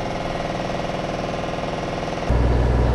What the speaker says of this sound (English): That is our washer.